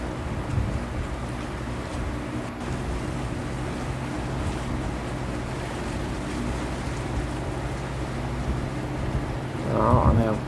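Fishing boat Bình Thuận 96932TS, a Cà Ná-style vessel heading out to sea off Lagi, with steady low engine drone and wind over the water throughout, a voice talking over it and a brief louder burst near the end.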